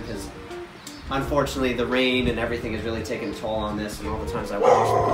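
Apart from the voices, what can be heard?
dog barking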